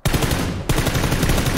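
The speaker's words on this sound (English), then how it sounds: "He was getting shot by this other team." Rapid automatic gunfire in the battle royale shooter PUBG on the Paramo map, loud, close, continuous bursts with no talk.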